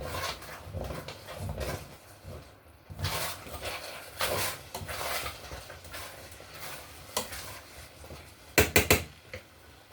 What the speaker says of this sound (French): Je vais mélanger le tout.